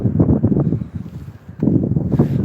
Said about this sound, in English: So the wind is about 10 miles an hour.